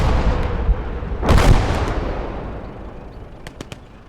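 A 10 cm artillery piece fires in the video game Legion of the Damned, giving one heavy, rumbling blast that fades out slowly. A few sharper, fainter cracks follow near the end.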